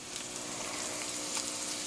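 Vegetable pancake batter hitting a hot pan, giving a soft, even, continuous sizzle that stays faint and steady for a couple of seconds with no voices.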